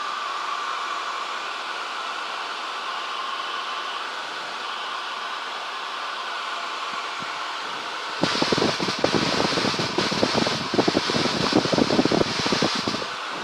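A light aircraft engine holds a steady cruise at 2000 RPM, a constant broadband drone and whoosh in the cabin, growing louder and rougher with crackling buffeting during the last five seconds.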